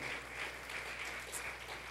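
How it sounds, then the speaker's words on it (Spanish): A church congregation at a Sunday service applauding together, a steady patter of many hands that fills the room at moderate level, with no one talking over it. "gracias por darle esas palmas al Señor"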